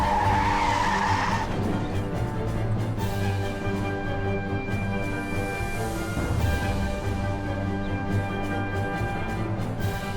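Car brakes hard and skids in Mafia: The City of Lost Heaven, a loud continuous tire squeal over steady engine drone, easing briefly before rising again.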